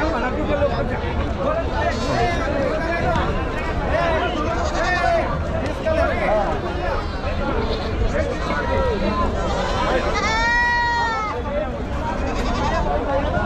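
Goats and sheep bleating repeatedly amid a busy Chakan livestock market in Maharashtra, with a loud, steady crowd hubbub and chatter throughout and a clear, drawn-out bleat standing out near the end.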